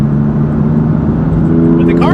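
BMW M4 GTS engine droning steadily from inside the car while driving, a constant low hum throughout with faint higher whine near the end.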